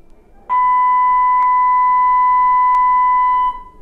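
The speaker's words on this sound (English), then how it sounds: "sorry for the bell" A school bell rings out as one loud, steady electronic tone lasting about three seconds, with faint clicks partway through, then stops cleanly.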